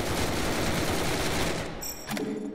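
Dense, rapid gunfire from the Roblox game Zombie Stories, a continuous loud fusillade of overlapping shots that thins out near the end.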